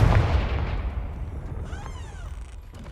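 A Confringo blasting curse goes off in Hogwarts Legacy, one heavy booming burst at the start that rumbles and decays over a few seconds into a fading tail.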